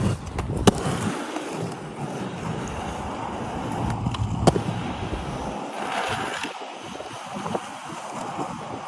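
A skateboard on a big-wheel setup rolling fast outdoors, giving a continuous loud rumble mixed with wind noise and a few sharp clacks as it rides over cracks.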